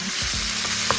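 Indomie goreng instant noodles fry in a pan with a continuous loud sizzle, joined by a few scraping stirs and small clanks, close up with no speech.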